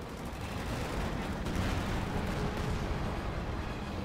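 Dense battle din from Company of Heroes 2, with a Stuka dive-bomber attack amid artillery and gunfire, a continuous loud wash of explosions and shots that swells slightly midway.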